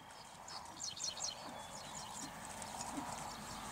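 Horse hooves cantering during a riding lesson in an arena, a soft rhythmic clip-clop of hoofbeats at moderate distance, with faint background noise and light bird-like chirps.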